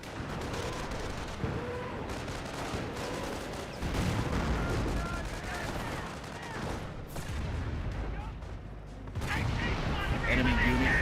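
Artillery and rocket barrage fire in Company of Heroes, a World War II strategy game, rumbles as a dense, continuous wash of explosions and gunfire throughout, with loud bursts swelling near the end.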